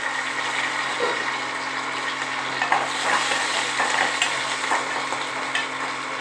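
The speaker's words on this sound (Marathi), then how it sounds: "चांगली फोडणी हलवून घ्यायची" A tempering of green chillies, garlic, curry leaves and onion fries in a pan as it is stirred, giving a continuous crackling sizzle close up, with a kitchen exhaust fan humming steadily beneath.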